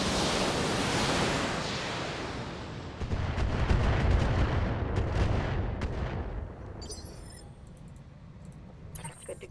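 Weapons fire in the BattleTech video game builds into a dense, loud roar of blasts and rumbling that swells midway, then thins out into sparse crackles near the end.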